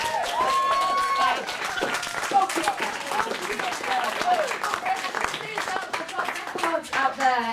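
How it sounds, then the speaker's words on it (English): Folk festival audience clapping, a lively round of applause with distinct nearby hand claps, while a voice carries over it. "We have got one more round of applause."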